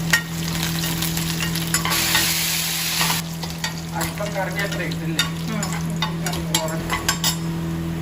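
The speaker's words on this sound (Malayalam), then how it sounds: "ഒരു സ്പൂൺ കടലപ്പറ്റി ഇതൊന്ന് ഫ്രൈ ആക്കാം ഫ്രൈ ആയി വന്നിട്ടുണ്ട്" Chana dal frying in a pan with chopped green chilli and dried red chillies, a steady close sizzle with scraping stirs and light clinks of a spoon against the pan throughout.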